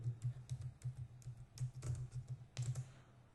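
Fingers tapping a computer keyboard to enter a string into a running C program, a quiet irregular patter of close keystrokes in short bursts with brief pauses, no talking.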